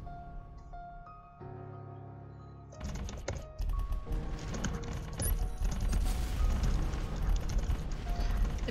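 Computer keyboard keys clatter during a typing game, a rapid patter of clicks building into dense, steady typing over soft game music, with little talk.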